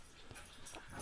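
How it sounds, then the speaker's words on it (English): Dogs whimper and pant in short, faint bursts spread across a brief moment indoors, with no talk over them. "I feel like Mark's riling your dogs up"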